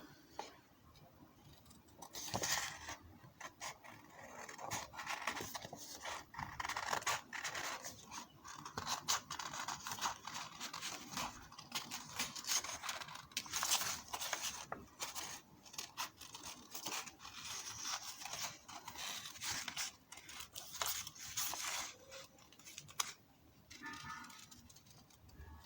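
Scissors snip through paper while elephant ears are cut out for a pencil holder, with quiet, irregular crisp cuts and rustling close by, and no voices.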